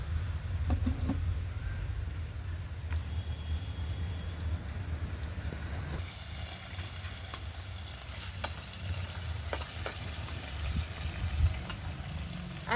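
Green chillies, dried chillies, garlic, cumin and mustard seeds fry in olive oil with a steady close sizzle. Occasional crackles and stirring scrapes come through, and the hiss grows brighter partway through.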